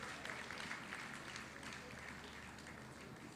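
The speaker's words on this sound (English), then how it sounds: "Please, can you give yourself a round of applause?" An audience in a conference hall at the Bank of Industry's 2024 International Women's Day event applauds, giving a steady, even patter of clapping that stays fairly faint and distant throughout.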